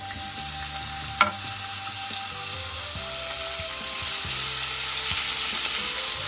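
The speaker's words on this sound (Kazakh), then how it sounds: "Қызып тұрған табаға зәйтүн майын құйып, табамызға бөлшектелген тауықтың төс етін салып 10 минуттай қуырамыз." Cut chicken breast frying in olive oil in a hot pan, a continuous close sizzle with a sharp utensil knock early on and soft stirring sounds.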